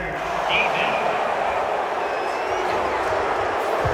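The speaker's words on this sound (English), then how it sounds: "Well, the crowd doesn't like that." A stadium crowd in Madden NFL 23 reacts angrily to a penalty flag on an incomplete pass, a steady loud roar of disapproval that fills the whole moment.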